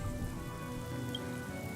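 Steady rain falls in a Honkai Star Rail game scene, a soft, continuous patter on surfaces with no voices over it.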